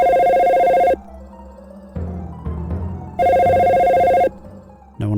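An old-style telephone rings in the video game Dino Crisis, two long loud electronic rings separated by a pause with faint background ambience, the call going unanswered.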